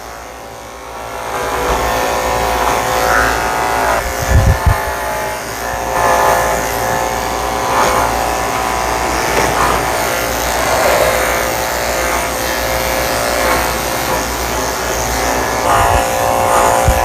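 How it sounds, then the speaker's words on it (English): Electric dog clippers shaving a Bichon-Shih tzu run as a steady, loud motor buzz with a low hum throughout, with a couple of brief knocks partway through. "I'm going to shave around the base of her tail with a 7 blade"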